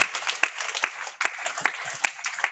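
Applause during a Zoom meeting of the Nigeria Institute of Soil Science, a brief scattered burst of clapping with uneven individual claps, thin and compressed as if coming through a call.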